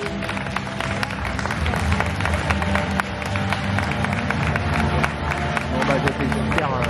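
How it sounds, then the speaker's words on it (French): Sustained crowd applause and cheering at a bodybuilding championship, dense clapping with a busy babble of voices throughout, loud and continuous for several seconds. "On peut les applaudir, bravo messieurs."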